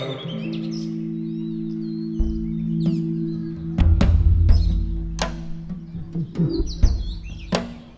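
Scattered bird chirps and tweets over sustained low electronic tones from manipulated guitar and piano samples, with occasional sharp knocking percussion hits, forming a layered, musical texture.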